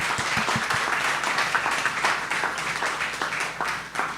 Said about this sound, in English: Yes, a round of applause for them.